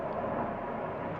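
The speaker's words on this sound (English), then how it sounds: "That's a helicopter, I think." Helicopter flying over a rural homestead, a steady distant low rotor drone and rumble heard on its own, fairly faint and unchanging over a brief moment.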